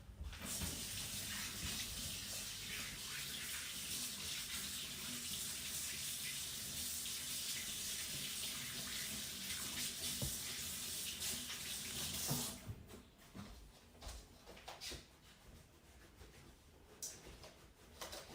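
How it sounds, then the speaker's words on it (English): A running kitchen tap rinses flour-covered hands during baking, making a steady rushing splash for about twelve seconds, then the water stops and soft handling sounds, drips and clinks follow. "So I'm just going to rinse my hands off."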